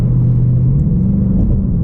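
A 2021 Ford Mustang Mach 1 with its 10-speed automatic pulls under light throttle, a deep, steady exhaust rumble with a low tone rising slightly as the revs climb, close and loud.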